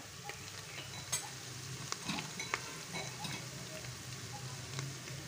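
Masala for dal palak with spinach, tomato and chillies sizzles steadily in a pan while a spoon stirs it with soft scraping strokes, a close, continuous frying hiss with no voices.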